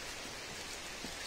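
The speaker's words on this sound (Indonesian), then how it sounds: "aduh tidak mau berhenti hujan sudah" Steady rain falls throughout in a rural village setting, a dense, even hiss of drops with no clear breaks and no voices.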